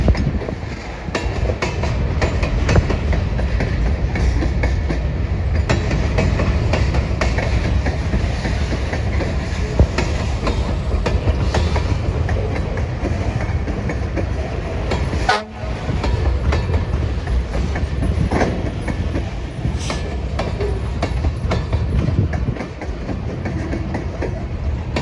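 A freight train hauling grain cars rolls past with continuous loud rumbling and clickety-clack of wheels on rails, broken by a short horn honk near the middle and another brief one later.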